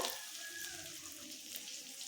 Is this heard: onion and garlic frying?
yes